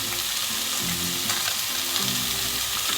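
Small mourala fish frying in oil, a dense close sizzle with faint bubbling that stays steady and unbroken for a few seconds.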